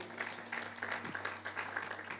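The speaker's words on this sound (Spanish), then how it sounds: "Dele un aplauso al Señor" A church congregation bursts into applause, a short run of scattered claps under a steady low hum, moderately loud and fairly close.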